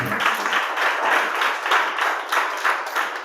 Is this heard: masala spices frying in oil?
no